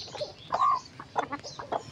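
Chickens cluck in short bursts close to the recorder at a rural yard, with one louder drawn-out call in the middle and no voices.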